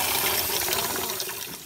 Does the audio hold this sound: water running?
yes